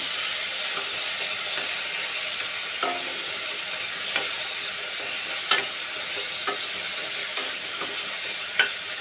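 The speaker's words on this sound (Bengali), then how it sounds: "নেড়ে চেড়ে একটু ভেজে নেবো চিংড়িগুলো" Prawns sizzle steadily in hot oil in a pan while being stirred, with a constant hissing fry and scattered soft scrapes and taps of the spatula throughout.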